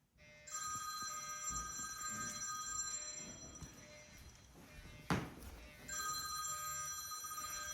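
A house smoke alarm under test gives off a loud, steady high-pitched electronic tone that runs for several seconds, breaks off around a sharp knock, and then sounds again.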